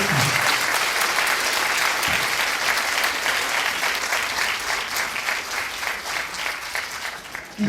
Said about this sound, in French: on va surtout les applaudir très fort et les encourager très fort